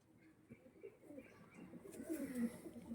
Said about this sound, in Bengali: অরিজিনাল ড্র্যাগন ফেসের পায়রা এটা